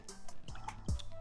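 Cherry liqueur poured into a cocktail glass while making a drink, giving a brief, close liquid trickle and drip with a short splashy gurgle near the end, fairly quiet.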